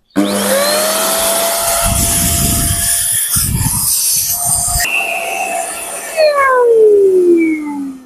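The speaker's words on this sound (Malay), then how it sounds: "Jadi mudahlah nak guna vacuum yang macam ni." A cordless dust vacuum cleaner runs with a loud, steady whine and hiss, its pitch shifting and dipping partway through before sliding downward near the end as the motor changes speed.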